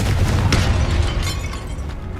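A Confringo blasting spell explodes in Hogwarts Legacy as a loud, close, rumbling boom with a sharp crackle, fading into a low roar.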